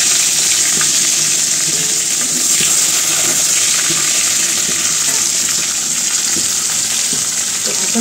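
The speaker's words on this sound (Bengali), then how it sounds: "এখানে হচ্ছে রোস্টের চিকেনটা ভেজে নিতেছি, অলরেডি এখন ভাজা হয়ে গেছে" Chicken pieces for a roast fry in hot oil, a loud, continuous close-up sizzle with a bright hiss that holds steady throughout.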